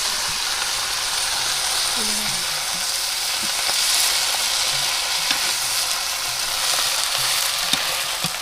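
Jute greens fry in a pot over a clay stove in a village kitchen, a steady close hiss of sizzling throughout with faint occasional stirring clicks.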